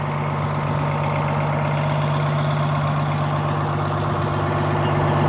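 A Detroit Diesel two-stroke engine in a White 4000 semi truck idles steadily, a loud continuous throbbing drone with a strong low hum and an even mechanical clatter, with no talking.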